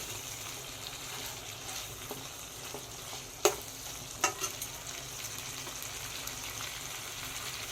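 Chicken gizzard curry being sautéed in a pan: a soft, steady sizzle with a few sharp spoon knocks against the pan around the middle, fairly quiet and without talk.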